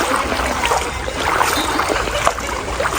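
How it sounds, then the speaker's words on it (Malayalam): Floodwater pours and streams out from inside a flooded house during heavy rain, a steady broadband rush of flowing water that fills the whole stretch without pause. "വീടിൻ്റെ അകത്തുനിന്ന് വെള്ളം ഇറങ്ങി വരുന്നു"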